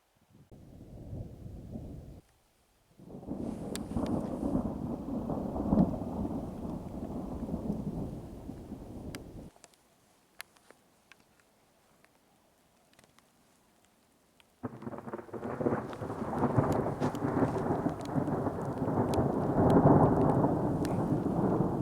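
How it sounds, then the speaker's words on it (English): Heavy rain pours steadily with low rolling thunder, broken by a short lull of near silence before the downpour returns just as strong. "I'm getting lots of thunder and it's raining pretty hard."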